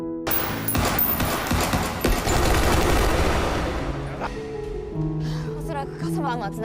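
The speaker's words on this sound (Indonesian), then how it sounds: "Lalu terjadilah tembak-tembakan." Gunfire shootout in the action film Baby Assassins: rapid bursts of automatic fire and single shots crack loudly and densely, then thin out toward the end as a voice talks over the scene.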